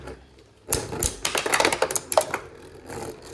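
Beyblade Burst tops, First Phoenix against Prominence Phoenix, launched into a stadium, then a burst of rapid close clattering and metallic clicks as they spin and collide for a few seconds.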